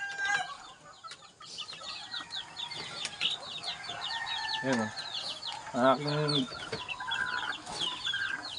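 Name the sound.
chickens clucking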